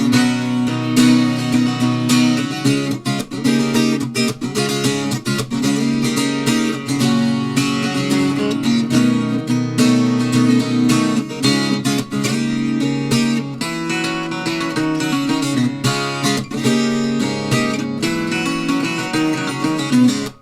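Strummed acoustic guitar plays the chorus of a song, with full steady chord strumming at a lively rhythm, loud and close, without any voice.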